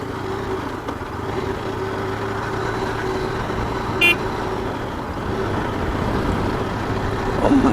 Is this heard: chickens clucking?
no